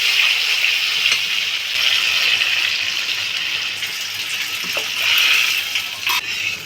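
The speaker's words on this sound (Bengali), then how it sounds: "এরপর যে আমরা একটু ঝোল অ্যাড করে দেবো" Broth poured into a pan of sautéed egg curry masala, a steady liquid gush and splash running throughout at close range with no talking.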